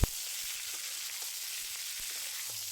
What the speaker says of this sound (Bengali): তো এবারে কুঁদরিগুলোকে এভাবেই নেড়ে চেড়ে 2-3 মিনিট ভেজে নিতে হবে।